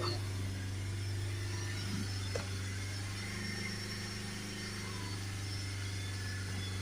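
A Honda Civic 2.2 diesel with a DPF warning light runs with a steady, even engine drone and little change in pitch over several seconds.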